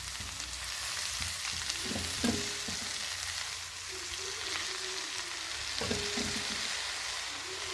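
Finely chopped manathakkali greens sautéing in a hot pan, a continuous soft sizzle with occasional stirring scrapes and clinks, close and fairly quiet.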